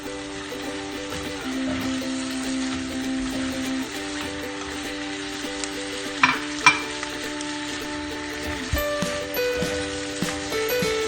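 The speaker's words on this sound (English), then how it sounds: "Okay, just mix it thoroughly." Chili garlic prawn sauce with oyster sauce is stirred in a pan, giving a steady low sizzle with a few louder scraping knocks near the middle, close up under a constant background hum, with no talking.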